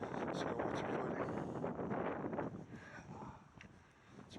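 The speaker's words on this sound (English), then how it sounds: "It's a little windy." Wind gusts across a muddy Appalachian Trail section, a loud, steady broadband rush buffeting the microphone for several seconds before easing slightly, with no one talking.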